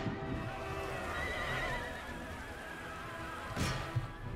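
Horses neigh and whinny within a dense, continuous battlefield din in the strategy video game Empire: Total War, near a cavalry regiment of horse gendarmerie. A sharper burst rises near the end, with no talking.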